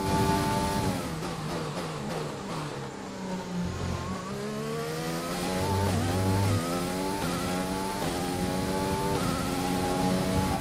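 An F1 2020 race car in a video game accelerates hard, its high-pitched engine climbing repeatedly through the gears with sharp upshifts. It stays loud and close, and no one speaks over it.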